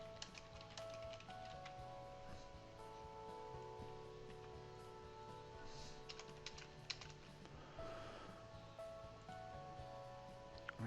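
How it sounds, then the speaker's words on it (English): Fingers type on a computer keyboard to enter event details, soft rapid key clicks spread across the stretch, faint and low against a steady background hum. "I type in some information here about the event."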